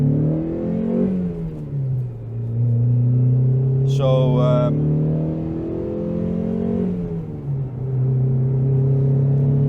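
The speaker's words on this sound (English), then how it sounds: "I love that sound. it sounds nice, but this one has an aftermarket exhaust." A Mazda MX-5 with an aftermarket exhaust idles and revs nearby, a deep steady rumble rising and falling in pitch with a couple of throttle blips; a short high squeak cuts in midway.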